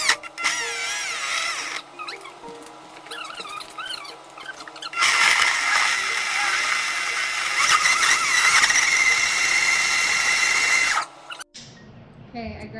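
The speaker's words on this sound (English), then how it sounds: "And blend. It's gonna be noisy." A kitchen blender whirs loudly as it blends food, starting with squealing, uneven bursts before settling into a steady high-pitched roar that cuts off abruptly near the end.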